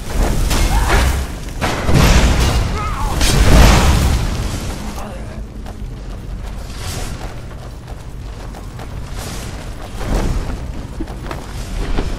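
Spells cast and striking in Skyrim produce deep booming bursts and whooshing rumbles, loud and heavy in the first few seconds, then a softer lingering rumble with smaller impacts later.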